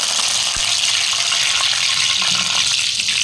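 Mustard seeds, fenugreek, cumin and curry leaves sizzle and crackle steadily in hot oil for tempering, a loud, continuous frying hiss throughout with no talk.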